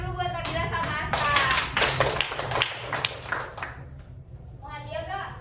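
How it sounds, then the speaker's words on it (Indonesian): Students and a teacher in a classroom clap in a burst of applause lasting a few seconds, then it fades as voices, including children's, talk over it. "Tepuk tangan dulu buat Nabila sama Aska."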